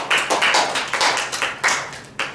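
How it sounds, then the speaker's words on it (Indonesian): A small classroom group claps in a microteaching session, a few separate bursts of hand claps and taps close by, uneven and moderately loud. "Tepuk tangan dulu."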